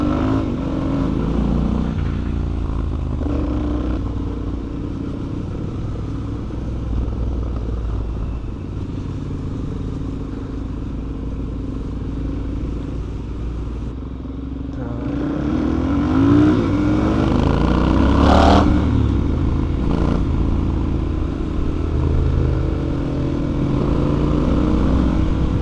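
Triumph and Suzuki DRZ motorcycles riding an off-road trail, engines droning steadily at moderate distance, rising into louder revving and clattering passes partway through, with no talk.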